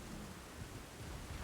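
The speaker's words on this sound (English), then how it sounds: "Rain! Yay! Now this place won't be as dry." Rain falls steadily in Elden Ring, a dense hiss with a low rumbling of thunder underneath, continuous and fairly loud.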